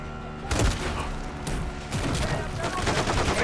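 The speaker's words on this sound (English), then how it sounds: "Taking RPG fire." Call of Duty MW3 campaign combat: bursts of automatic gunfire and booming RPG blasts overlap in dense, rapid volleys, loud and close, with radio voices faintly beneath.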